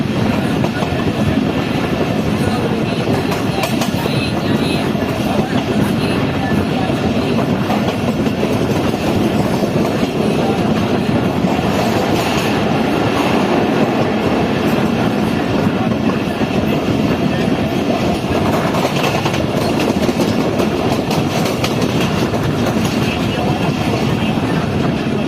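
The Karakoram Express runs along the rails in Pakistan, heard as a continuous rumble with clickety-clack wheel rhythm and rattling carriages, steady and fairly loud for the whole stretch.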